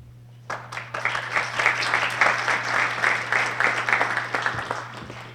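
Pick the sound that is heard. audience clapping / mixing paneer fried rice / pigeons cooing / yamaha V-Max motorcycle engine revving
audience clapping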